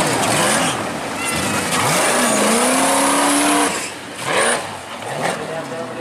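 Off-road competition vehicle in the FFA class at an adventure offroad championship in Tasikmalaya roars and revs loudly nearby, with engine pitch sweeps and tire noise, while a commentator talks over it.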